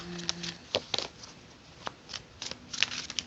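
Tarot cards shuffled by hand in a series of crisp, papery riffles and soft slaps, coming in uneven bursts with short pauses between them, close and fairly quiet.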